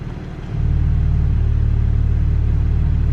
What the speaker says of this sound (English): Try to see if you guys can listen to the exhaust note.